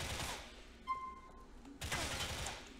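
Gunfire in Grand Theft Auto IV: a burst of rapid shots, then a short lull with a faint electronic tone, then a second loud volley of automatic fire.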